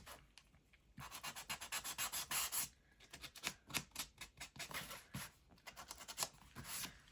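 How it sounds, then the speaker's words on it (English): Light hand sanding across a craft envelope, a dry papery rasping in quick short strokes and bursts, close and moderately loud, pausing briefly between passes, with no talking. "now I'm just gonna give it a little sand"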